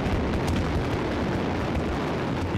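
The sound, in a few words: fireworks shell fired by computer-triggered detonator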